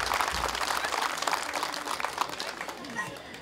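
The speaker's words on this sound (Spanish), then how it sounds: "les pido un aplauso para" At a village patron saint festival in Santa María Coatlán, a crowd claps for the patroness while voices and children's chatter carry over the dense, uneven applause.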